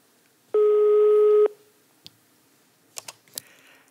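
A single steady telephone tone sounds for about a second while a call is placed to the Lufthansa hotline, followed by a few faint clicks and taps.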